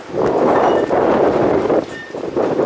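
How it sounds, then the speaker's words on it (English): Strong wind buffets the microphone in a steady, loud rush of broadband noise with gusty swells, no voices. "it's windy as hell out here"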